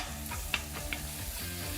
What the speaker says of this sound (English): Once that bacon starts to get really nice and crispy,